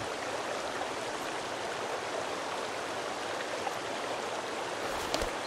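River water in the Sons of the Forest video game streams steadily in a constant, full rushing wash throughout, with no talk over it.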